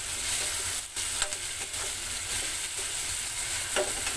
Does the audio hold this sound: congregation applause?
no